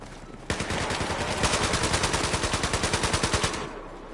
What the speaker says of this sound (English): I'm just shooting at you